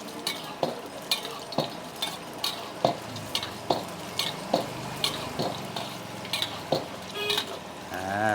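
Chicken fu yung hai fries in a wok while hot oil is repeatedly ladled over it, giving a steady sizzle broken by rhythmic scraping clinks of the utensil about once a second, close and without talk.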